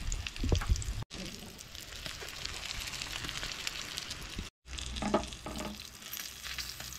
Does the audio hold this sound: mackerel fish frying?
yes